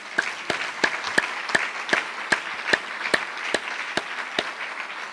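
Sparse, evenly spaced claps, roughly three per second and moderately near, from an audience welcoming Mrs. Helmerich at a distinguished author award dinner; the claps sound crisp and separate, with no voices.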